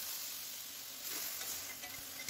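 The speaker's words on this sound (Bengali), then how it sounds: "সর্ষে ফুটে গেছে, এখন এতে দিয়ে দেব কুড়িয়ে রাখা আনারস।" Pineapple pieces tipped into ghee with popping mustard seeds in a wok for pineapple chutney, a soft, continuous sizzle with a few light stirring scrapes.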